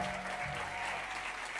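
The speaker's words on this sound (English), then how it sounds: "So, ladies and gentlemen, again, give another round of applause for Dr. Lester Young" Faint, steady applause from a conference audience for a speaker, a brief continuous wash of clapping heard from a distance.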